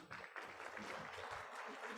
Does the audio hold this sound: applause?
yes